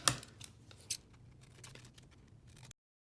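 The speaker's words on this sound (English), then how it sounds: "So I'm gonna cut just at an angle these corners off." Scissors snip the corners off a handmade paper book cover at an angle: one sharp close cut, then a second snip about a second later, followed by faint small rustles in a quiet room.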